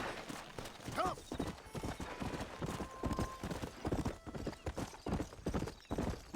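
Horse hooves clip-clopping in a steady rhythmic gait in the Red Dead Redemption video game on PS5, close and continuous, with a brief whinny near the start and speech faintly underneath.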